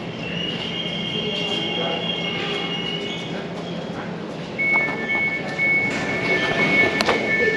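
An Elizabeth Line train runs through a tunnel, its steady rumble punctuated by high wheel squeals and rattles, heard from inside the carriage with faint background voices.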